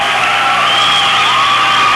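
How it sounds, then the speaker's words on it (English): A basketball crowd at a 1999 Fergus Falls at Staples game cheers loudly and continuously, with whoops and shouts blending into a dense roar. "Crowd's going nuts"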